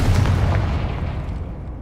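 A Confringo spell explosion in the Hogwarts Legacy video game, a loud deep boom with a rumbling blast that fades out over under two seconds.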